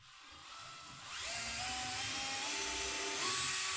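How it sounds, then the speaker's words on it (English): A power drill whines up to speed and runs steadily, its pitch rising and settling as it bores a hole in wood, loud and close with no talking. "So I'm going to drill a hole right now because I'm very confident"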